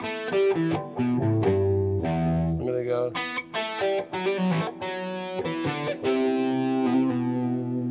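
Distorted electric guitar plays a quick melodic phrase of bent and sustained notes, with a brief spoken remark slipping in.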